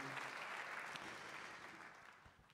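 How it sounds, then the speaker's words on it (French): A hall audience at a New Year civic address claps for the local triathlon club, a faint, steady wash of many hands that keeps an even level and eases off slightly toward the end. "vous pouvez applaudir. Et applaudir le club de triathlon en particulier."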